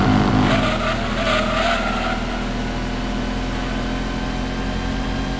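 A Camaro race car in Gran Turismo 2 roars with a steady engine drone, and a burst of tire squeal in the first two seconds fades into continuous engine noise.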